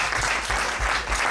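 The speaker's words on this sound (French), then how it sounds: "Applaudissez pour mon père." A brief burst of audience clapping at a motivational talk, loud and close, with a few heavier rhythmic thumps mixed into the wash of hands.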